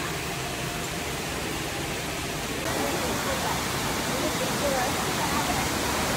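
Steady broadband roar of a waterfall at a Philippine falls, a dense continuous wash of falling water that grows slightly louder partway through, with no clear voices above it.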